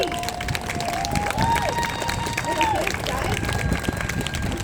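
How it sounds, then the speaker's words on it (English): A crowd at an outdoor rally in Halifax applauds and cheers in a steady, continuous wash of noise, with a thin sustained whistle-like tone gliding above it and voices mixed in. "Big round of applause for Michelle Lindsay from PBC"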